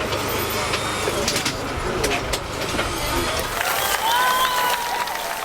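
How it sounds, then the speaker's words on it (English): Rally mechanics clapping and cheering as the winning car pulls into the service area at Rally Finland, a busy outdoor scene with applause over engine rumble and crowd noise. "To the applause of his mechanics, Mäkinen arrives at service"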